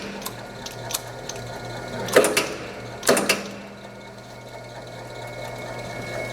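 A Kenco 3-ton mechanical punch press with palm buttons cycling twice, each stroke a loud mechanical clunk and clatter over a steady motor hum, with lighter clicks between strokes.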